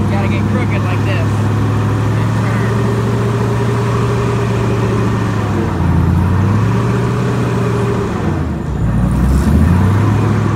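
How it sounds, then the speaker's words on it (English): A GTO airboat's engine runs loud and steady while the boat is driven onto a trailer, droning continuously with shifts in pitch as the throttle changes and a voice talking over it. "It's me driving boat, putting on a trailer."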